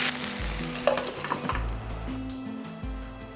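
Vegetables with turmeric powder sizzle loudly in a pan, with spatula stirring and scraping and a low steady hum underneath; no voices.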